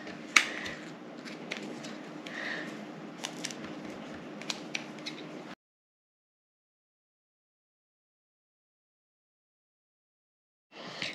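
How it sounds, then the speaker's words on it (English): Scissors snip at the woody base of turkey tail mushrooms, giving a string of small crisp cuts and clicks close by over a low hum, then a long silence. "I am going to trim off the parts here where it was attached to the wood."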